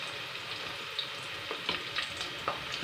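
Green chillies fry with onions in a pan, a steady soft sizzle with a few crackling pops and light stirring clicks, close and fairly quiet.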